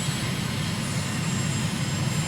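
Steady, continuous jet engine roar of an airliner on final landing approach in Microsoft Flight Simulator, a uniform drone with no voices.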